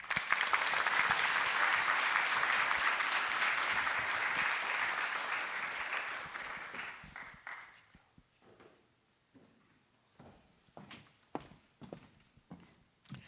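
A museum audience applauds to welcome a speaker, dense clapping for about seven seconds that thins and fades into scattered claps and footsteps on a stage floor.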